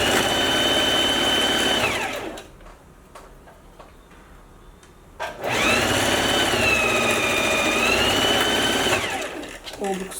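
A sewing machine stitches a lined coat in two long runs with a high steady whine, separated by a quieter pause of clicks and handling.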